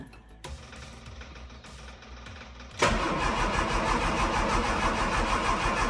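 A classic Mini's engine cranks briefly, then catches and settles into a steady, loud idle that runs on to the end, close by with no talking.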